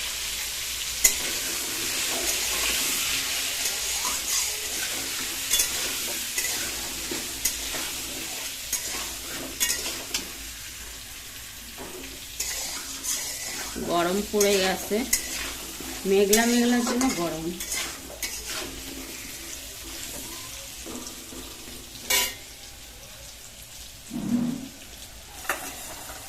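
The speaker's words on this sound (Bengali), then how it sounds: "আমরা এখানে আস্তে আস্তে আলুগুলো ভেজে নেবো" Potatoes fry in a pan while being stirred, a continuous sizzle broken by repeated scraping and clinking strokes throughout, close up, with a person talking briefly partway through.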